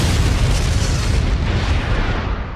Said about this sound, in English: And so it caused a nuclear explosion that destroyed all of Ninja World.